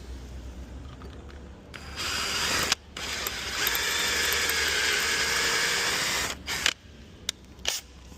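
Power drill with a 4mm bit drilling out a broken bolt on a forklift, a steady loud whirring burst of several seconds that starts and stops abruptly, with short mechanical clicks after it.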